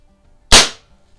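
A single loud, sharp shot from a Crosman 2240 CO2 airgun fitted with a 1/2-20 suppressor, a close crack with a short hissing decay, isolated in otherwise quiet surroundings.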